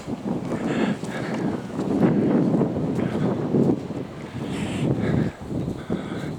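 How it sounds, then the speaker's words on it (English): Wind buffeting a camera microphone outdoors on a windy day, a loud rumbling roar with gusty swells and dips running throughout, no talk over it. "I don't know if you can hear me because it's pretty windy today."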